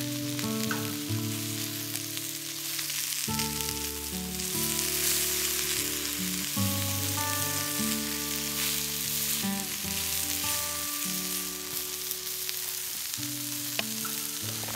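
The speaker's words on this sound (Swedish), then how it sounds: "Dags att steka lite kött också då." Teriyaki-marinated beef fries on a tent stove, a loud continuous sizzle that crackles steadily for the whole stretch, with a low stove hum underneath.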